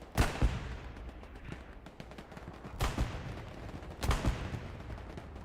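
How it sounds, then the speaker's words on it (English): Suppressive fire from a 76 tank in the Hell Let Loose game, with bursts of gunfire and several sharp, loud shots against a constant rumble of distant battle. "And all the suppressive fire coming in from this 76, from this tank up here."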